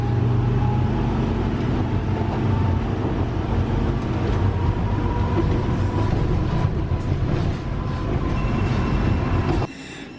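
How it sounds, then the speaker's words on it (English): West Midlands Trains units rolling past at close range, a loud continuous rumble of wheels and carriages that holds steady for most of the stretch before dropping away abruptly near the end. "And then we've got some West Midland trains units."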